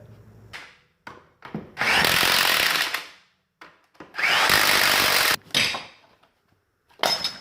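A cordless impact wrench fires two loud, close bursts of about a second each, tightening the brake caliper bolts on a 2000-06 Tahoe, Suburban or Yukon rear brake, with short clicks and handling noises between them.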